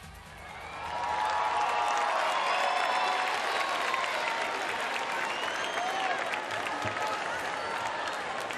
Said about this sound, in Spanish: Fuerte el aplauso para Ray.